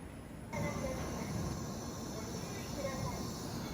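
Train pulling into a platform at Shinagawa Station in Japan, a steady loud rumble of wheels and rolling stock with faint squeals, rising in level after half a second and holding constant.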